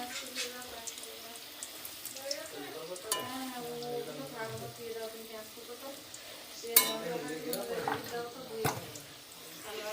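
Potato pieces fry in hot oil in a pan for biryani, with a low sizzle and scattered scrapes and clinks of stirring. Sharper knocks come near the end, and faint voices can be heard in the background.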